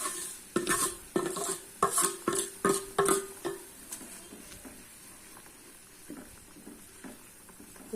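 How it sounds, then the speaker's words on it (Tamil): Roasted vermicelli being stirred into boiling water in a pot for semiya kesari: a quick run of close scraping, clattering stirs with light sizzling, then quieter bubbling and occasional soft taps. "நம்ம இந்த வறுத்த சேமியாவை சேர்த்துடலாம்"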